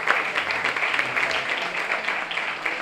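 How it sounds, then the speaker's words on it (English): Crowd applause at a boxing fight night press conference in Atlanta, a steady dense patter of many hands clapping throughout, moderately loud and fairly close. "Give him a big round of applause."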